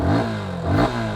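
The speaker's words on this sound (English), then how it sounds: "the looks of the side-hung single barrel exhaust are carried from the previous generation FZ25, which sounds more bassier now" A 2020 Yamaha FZ25 BS6 motorcycle revs briefly through its side-hung single-barrel exhaust, giving a deep, bassy engine burst that swells, dips and rises again, loud and close over about a second.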